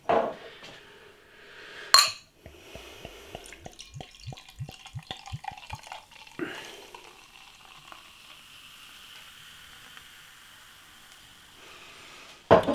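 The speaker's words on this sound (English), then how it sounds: "Beer in the glass then." A Belgian double IPA is poured from a bottle into a glass: a sharp clink first, then a quick run of rhythmic glugs, followed by a soft, fading fizz of foam settling, close and quiet.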